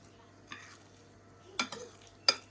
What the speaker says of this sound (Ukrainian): Ось ми змішуємо все дуже, дуже добре